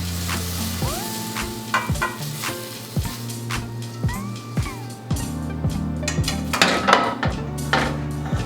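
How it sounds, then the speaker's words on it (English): Apples being stirred and coated in warm sauce in a pan while cooking an apple pie, with steady sizzling under repeated scraping and clinking of a utensil against the pan, close and continuous throughout. "I'm gonna coat the apples in that sauce"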